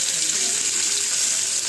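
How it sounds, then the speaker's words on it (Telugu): Fish pieces dropped into smoking hot oil for a fish fry, giving a loud, continuous close-up hiss of sizzling oil. "ఇప్పుడు చేప ముక్కలు వేసుకుందాం"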